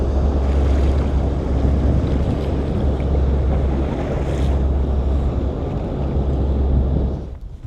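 A fast hydrofoil boat passes on Lake Como with a loud, continuous roar of engine and rushing water, heavily buffeted by wind noise, easing off at the very end.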